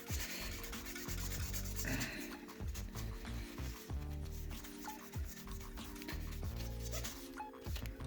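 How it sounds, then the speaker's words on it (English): Old thermal paste is rubbed off an AMD CPU with alcohol, making close, rhythmic scrubbing strokes that repeat in quick back-and-forth bursts with no speech. "Start rubbing again until everything comes off."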